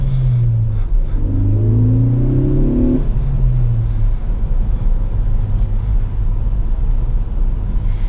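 A 2017 Ford Focus ST engine drones steadily from inside the cabin while driving on a snowy, slippery road. Revs climb briefly early on, then settle into a loud, even rumble with no talking.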